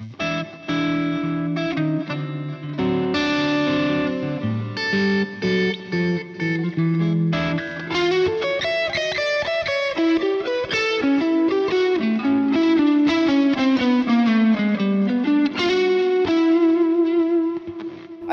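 Electric guitar with a distorted, chorused tone plays a winding, jazzy blues lick, notes sliding and bending in a steady melodic run, loud and alone.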